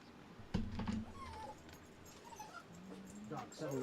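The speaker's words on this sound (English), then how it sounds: "Dog, settle down." A dog whimpers and whines indoors, a few thin high-pitched cries at moderate distance, mixed with faint background noise and a short bump near the start.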